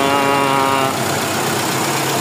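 A Mitsubishi Fuzion 4G64 engine with lost compression on cylinder four and a cracked exhaust valve runs nearby, a loud, steady idle with a buzzing, uneven mechanical clatter.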